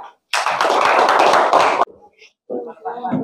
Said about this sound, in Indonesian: silakan beri tepuk tangan yang meriah